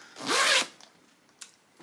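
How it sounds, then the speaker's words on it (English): A zipper on a knitting project bag is pulled in one quick, close rasping stroke, followed by a couple of faint clicks from the zipper pull. "And then the whole thing has a zipper"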